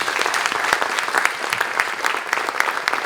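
An audience at a county Farm Bureau candidate forum applauds the county candidates, a dense, loud wash of many hands clapping at once that carries steadily through the whole stretch without any talking.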